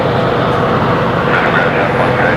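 A jet airplane taxiing at Brisbane Airport, a broad, steady engine roar close and loud throughout, with a person talking under the noise.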